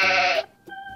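A sheep bleats once in a loud, sustained, wavering cry from a children's farm-animal story with toy figures, followed by a short pause and soft, steady tones.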